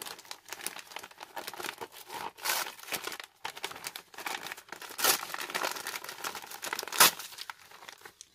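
Crinkly plastic wrapping of a Halloween candy swap package being opened by hand, a close, continuous crackling and crumpling with a few sharper tearing bursts, no talk.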